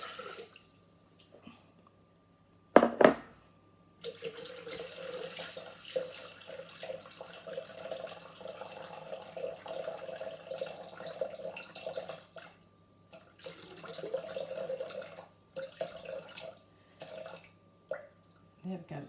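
Water pours steadily into a Thermomix bowl for about fifteen seconds, close and fairly quiet, with a brief clatter beforehand and a low hum underneath.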